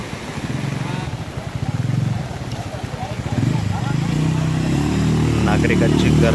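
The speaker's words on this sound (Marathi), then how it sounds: "कशा पद्धतीने जीव धोक्यात घालून हा बाईक स्वार जो आहे तो मनोरच्या दिशेने निघालेला आहे" A motorbike engine drones along a flooded stretch of the Palghar–Manor road near Masvan, its throbbing motor close and loud beneath someone speaking over it.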